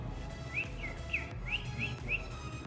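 A person whistles inward to imitate a cricket, producing about six short, chirping whistles in an uneven rhythm over a low background hum.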